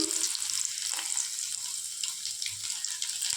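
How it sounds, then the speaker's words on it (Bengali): Garlic sizzling in hot oil in a pan while fish is being cooked, a steady bright hiss that stays close and constant throughout with no talking. "ওই তেলের মধ্যে দেব রসুন"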